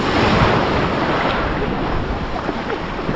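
Strong wind buffets the microphone over rolling sea waves off Positano, heard from a boat as a loud, continuous roar of surf and gusts with no talk.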